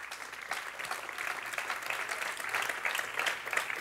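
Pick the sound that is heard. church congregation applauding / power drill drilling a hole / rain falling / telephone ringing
church congregation applauding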